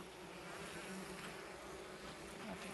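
Honeybees buzz steadily at a hive in the Cévennes National Park, a dense continuous drone that holds at an even level throughout with no talk over it.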